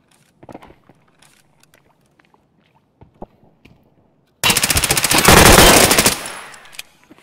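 A VSS rifle fires a rapid, loud burst of automatic gunfire in Escape From Tarkov, lasting almost two seconds, after scattered faint footsteps and clicks.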